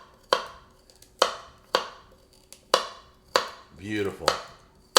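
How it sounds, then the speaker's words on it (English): Sharp knife chopping carrot ends on a cutting board, six crisp evenly spaced chops close up, with a brief spoken word over one cut. "Cuts like butter through a carrot."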